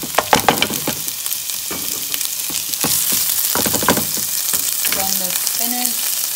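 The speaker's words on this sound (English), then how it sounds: "Next, I'm gonna add in the rice and again, saute for about 1 minute." Rice and vegetables sizzle and fry in a pot, a constant crackling sauté broken by repeated scrapes and clatters of stirring, with a few brief clinks toward the end and no speech.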